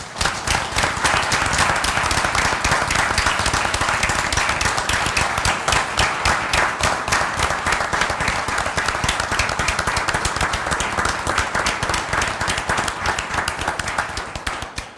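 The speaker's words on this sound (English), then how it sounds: "I'd like to give all these gentlemen and their families a round of applause." Town council meeting attendees give a sustained, even round of applause to police officers and their families, many hands clapping densely and loudly for about fifteen seconds before tapering off.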